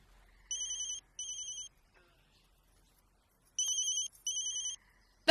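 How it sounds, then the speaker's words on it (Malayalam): An electronic telephone ringtone sounds in two pairs of short bright bursts separated by a pause, clear and close in an otherwise quiet room during a Tamil movie scene. "ഫോൺ അടിക്കുന്നു."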